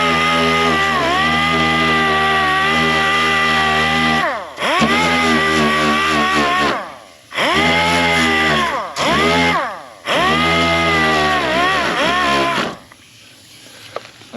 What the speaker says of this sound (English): you can get most of that body filler off with the DA real quick